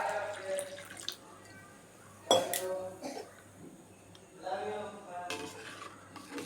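Water for homemade pani puri is poured into a vessel, with clinks of utensils and dishes and a splashy pour that swells and fades, close and fairly quiet.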